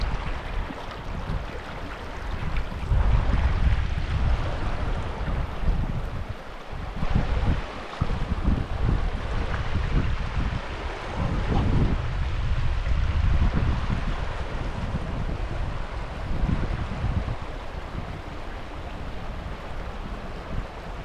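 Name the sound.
river running under a natural bridge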